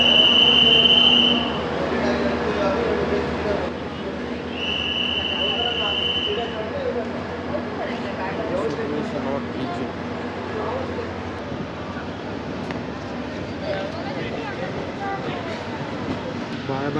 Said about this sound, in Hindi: डोन जंक्शन से इसमें डीजल लोकोमोटिव लगा हुआ है